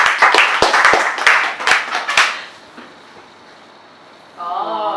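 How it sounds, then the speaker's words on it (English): A small audience claps in a quick burst of sharp, separate hand claps over about two seconds, then the room falls quiet before a voice begins speaking. "A big clap."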